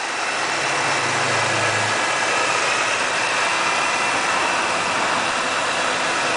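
Supercharged S54 engine in a BMW M3 runs steadily with a dense, loud, continuous roar and hiss close by, with no talk.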